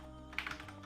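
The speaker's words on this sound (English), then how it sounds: "I can finally type here." Typing on a computer keyboard with a Swedish layout: a few quiet, quick key clicks close by, over a steady low hum.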